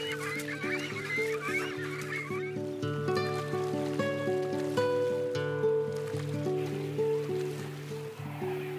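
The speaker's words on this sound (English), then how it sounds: "Australian cranes arrive in search of the roots of sedges." Australian cranes give loud, honking bugle-like calls that repeat and overlap in a wetland. Their harmonic notes rise over a low background rumble.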